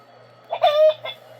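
A voice imitates a hen clucking, giving a brief, animated bawk-bawk call of a few syllables, close and clear against silence.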